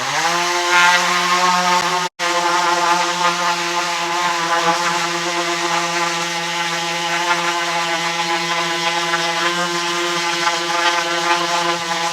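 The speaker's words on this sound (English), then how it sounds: "We're just going to take some 60 grit sandpaper and an orbital sander and sand these down real quick" An orbital sander with 60 grit sandpaper runs on thin wood stock, making a loud, steady whirring buzz that cuts out for a moment near the start and then runs on without a break.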